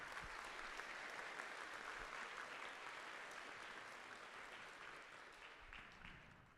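Sustained audience applause at an award ceremony for a miniature painting competition at a convention, steady dense clapping from a large crowd that fades slightly toward the end, with no voices over it.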